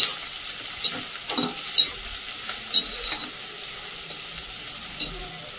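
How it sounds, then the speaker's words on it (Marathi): Chopped onion sautéing in hot oil in a pan for a safflower greens dish: a steady soft sizzle with a few sharper clinks and scrapes of stirring, heard alone without talk. "तेल गरम झालेलं आहे म्हणजे कांदा टाकूया सर्वात पहिलं। कांदा परतून घेते मी।"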